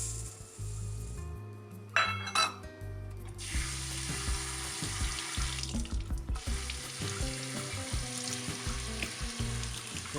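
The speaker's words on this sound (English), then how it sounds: "So we're going to keep rinsing it until the water comes clear beneath it." White rice being rinsed for Brazilian-style arroz under running tap water in a kitchen sink, a steady close gush and splash with occasional clatter, no talking.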